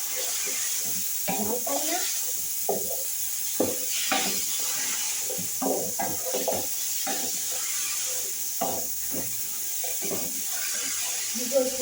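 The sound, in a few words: frying tomato and meat in a pan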